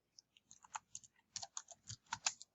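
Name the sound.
typing on a computer keyboard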